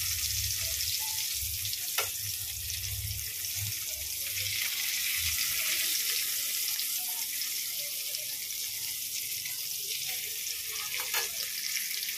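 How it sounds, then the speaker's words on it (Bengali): Potatoes boiled with salt and turmeric fry in a pan to brown. A loud, steady, hissing sizzle continues throughout, with occasional soft clinks from stirring. "এটা একটু ভেজে নিচ্ছি লাল লাল করে।"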